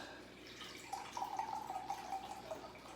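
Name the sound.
pouring beef broth into chili pot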